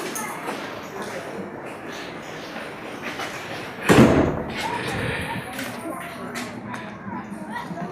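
A door opening and closing, with a single loud thud-like slam midway amid shuffling and background voices.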